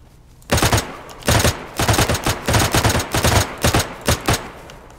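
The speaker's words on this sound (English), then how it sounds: "I'm getting shot at." Loud bursts of automatic gunfire in a player-versus-player shooter, several rapid volleys close by separated by short pauses, with no voices.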